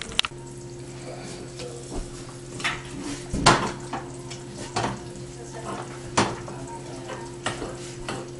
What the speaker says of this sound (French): Nous mélangeons les ingrédients